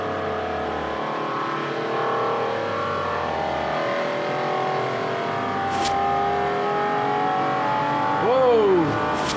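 Racing car in Forza Horizon 2 roars at high speed with steady engine drone and rising revs, then a sharp tire squeal near the end, with a voice talking faintly over it.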